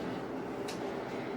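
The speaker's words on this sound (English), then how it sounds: "Right now, the sound you're hearing is from my AC, my house system." Steady broadband hum of a house air conditioning system running, a constant close whoosh with no change in level and no talking over it.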